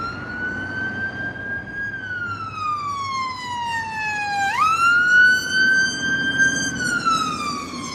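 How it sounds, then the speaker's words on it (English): An emergency vehicle siren wails in slow rising and falling sweeps, moderately loud and somewhat distant over low street rumble, with no voices. "Sounds a bit like an ambulance."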